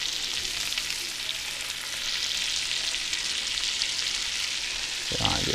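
Broken-apart onions fry in a pan with a steady, close sizzle and faint stirring, moderately quiet, ending in a brief knock.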